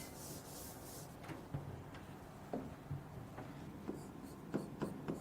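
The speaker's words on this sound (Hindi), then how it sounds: "हेडिंग लिखेंगे" Writing a heading on a board during a chemistry lesson makes faint, close scratchy strokes and soft taps in an uneven rhythm over a quiet room hiss.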